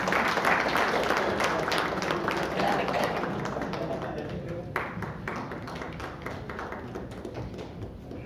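Applause from an audience at a Jain poetry gathering in Raipur: steady hand clapping from a crowd, loud at first and gradually thinning and fading over several seconds.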